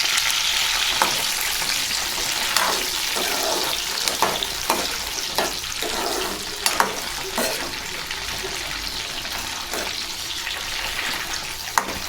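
Green chillies and tomatoes sizzle in hot oil in a pan, giving a steady close frying hiss with scattered pops and clicks throughout.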